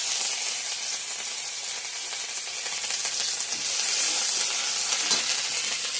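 Bay leaf, dried red chilli, five-spice seeds and ginger sizzle steadily in hot oil for a Bengali potato and pointed gourd dish, a close, continuous hiss of frying with faint crackles and no talking.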